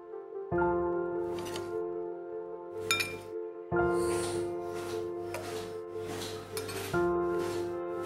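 A lid clinks down onto a steel cooking pot holding green banana kofta in gravy, giving several bright metallic chinks and clanks spaced through the clip, close and fairly loud over a steady tonal hum.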